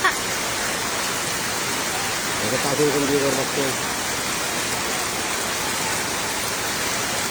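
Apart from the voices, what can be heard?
heavy rain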